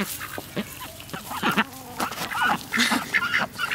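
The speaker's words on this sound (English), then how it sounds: "Look at these ducks, honey." Ducks quacking close by at an alpaca farm, a busy run of repeated nasal quacks and honks overlapping one another, with no talk.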